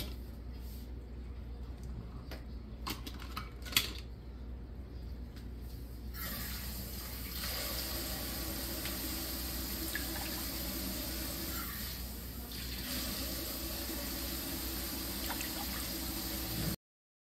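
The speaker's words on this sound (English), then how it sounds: "add a cup of water and a cup of our oats and get this thing going." Water runs and pours into a container as oats are added to start a nematode culture, with a few small clicks early on, then a steady, fairly loud gush of filling liquid that lasts about ten seconds before cutting off.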